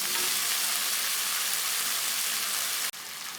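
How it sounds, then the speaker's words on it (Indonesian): A sauce thickened with cornstarch and seasonings boils in a pan, giving a steady, close, hissing sizzle that runs almost unbroken except for a brief dip near the end, with no talking. "ini sudah mendidih"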